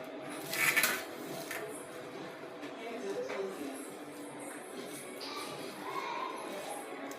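Sabudana vada ingredients being mixed in a bowl, with light clinks and scrapes of a utensil and a sharper clatter near the start, fairly quiet in a home kitchen.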